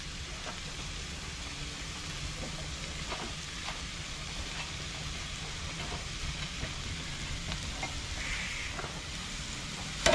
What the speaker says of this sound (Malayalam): ഉള്ളി ക്യാപ്സിക്കോ അതുപോലെ ചിക്കൻ പീസാക്കി വെച്ച് അതും ഇതിലേക്ക് ഇട്ട് കൊടുക്കുക